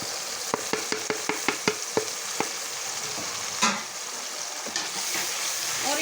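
Chilli spices frying in a pan for a fish curry, a steady close sizzle punctuated by a quick series of sharp spoon taps and scrapes as the mixture is stirred, then quieter stirring.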